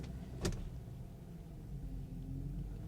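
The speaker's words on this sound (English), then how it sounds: "Put it in gear." A Datsun 280ZX engine idling with a low steady rumble, a sharp clunk early on as it is put into gear, then the idle carries on evenly, close by.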